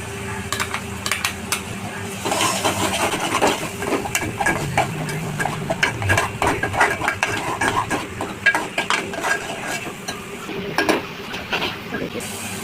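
Dry spices fry in hot oil and are stirred in a pan for a Maharashtrian val bean amti, with a steady sizzle and repeated scraping and clinking of a utensil against the pan close by.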